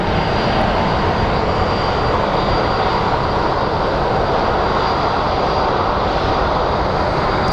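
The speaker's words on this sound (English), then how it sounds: "Our next plane is a CRJ 700 that is headed to Santa Fe." A CRJ 700 jet plane at Phoenix Sky Harbor airport roars loud and steady throughout, a continuous broadband engine rush with no pauses.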